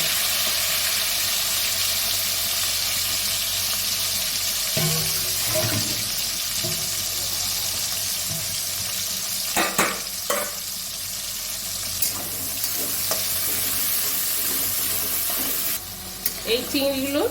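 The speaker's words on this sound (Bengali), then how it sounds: "তো চিংড়ি মাছ তেল বসিয়ে দিয়েছি, মাছগুলো ভেজে নেব।" Small shell-on prawns fry in hot oil with a strong, steady hiss that runs throughout, broken by a few clinks and spatula scrapes, heard close up.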